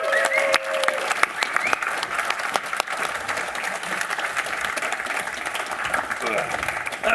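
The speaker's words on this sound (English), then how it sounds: "Let's give a round of applause for Philip and Bjarke." An audience at the Codegarden 2022 conference applauds as two guests come on stage: dense, steady clapping fills the room while a presenter talks over it.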